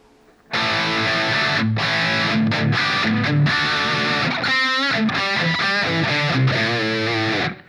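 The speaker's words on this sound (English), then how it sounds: "we can add some of that room reverb" Distorted electric guitar through a Line 6 POD HD500X amp modeller with room reverb, loud chords and ringing single notes with short gaps, alone.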